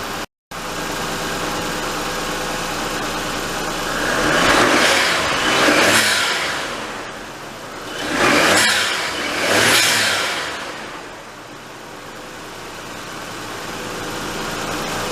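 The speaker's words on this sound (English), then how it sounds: "I'm going to let it idle for a little bit and warm up, and then I'll give a few revs." Nissan R32 Skyline RB25DE turbo engine idling, then two close, loud revs rising and falling a few seconds apart before it settles back to a steady idle; no talking.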